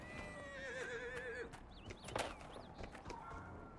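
A horse in Dragon Age: Inquisition lets out a loud, wavering whinny, followed by hoof clops and scattered game effects, with speech faintly mixed in.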